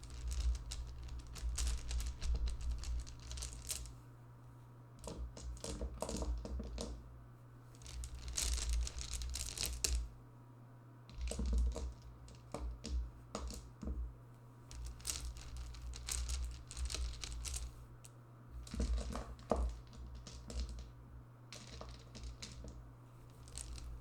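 Plastic dice sets clatter and crinkle inside a bag as it is handled and opened up, close and quiet, with steady irregular rattles and rustles and no talking.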